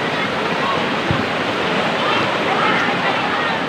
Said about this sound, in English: ipapasyal po namin kayo dito sa aming ilog dito sa Kipot River.